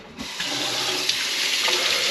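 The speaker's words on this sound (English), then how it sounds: "turn the water on with my elbow." A tap turns on and water runs steadily into a sink, a full rushing splash close by with no talking.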